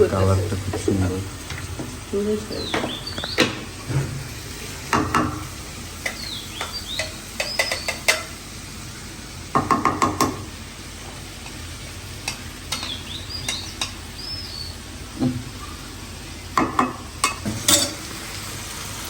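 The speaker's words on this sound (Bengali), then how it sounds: "করল্লার ডাল একটু ভাজি করতেছি" Bitter gourd frying in a pan, with soft sizzling and irregular stirring scrapes and clatters, while birds chirp in the background and a voice talks nearby.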